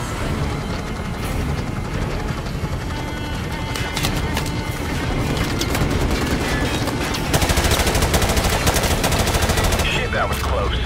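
Dense, continuous automatic gunfire and scattered single shots rattle through a Call of Duty combat mission, the 'Charlie Don't Surf' level, with volleys growing louder and sharper toward the end amid battle noise.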